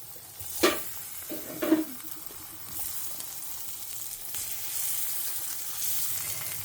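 Oil heating in a pan hisses in a steady, soft sizzle, joined by a couple of brief clinks or stirring knocks near the start, close up with no talking.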